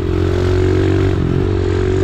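A mini motorcycle engine drones loud and steady throughout, a close buzzing hum with some rattly clatter and no break.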